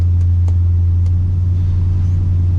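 A heavy, droning LS-swapped square-body truck engine running rough rumbles steadily up close, with a low uneven throb and a few faint ticks over the top.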